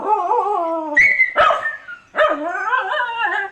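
Dogs indoors trying to catch a rat give close, high-pitched whining yelps and yips in drawn-out, wavering bursts, with a short pause before another long whine.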